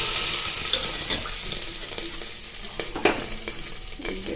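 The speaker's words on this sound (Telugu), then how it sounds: "తిరగమాత గింజలు రెడీ చేస్తున్నాను, వేసుకుంటున్నాను" Tempering seeds for sambar fry in hot oil in a pan, giving a loud, continuous hissing sizzle with scattered small pops and a few louder crackles, heard up close with no talking.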